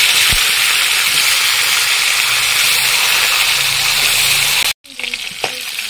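Tengra fish fry in hot oil, a loud, dense, continuous sizzle that fills the space, close up, broken by a brief sudden drop before the frying resumes slightly quieter.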